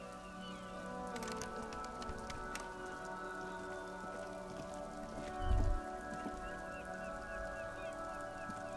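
Steady rain falling in the video game Disco Elysium, a constant patter on surfaces with a low ambient hum, a brief low thump midway, and no voices.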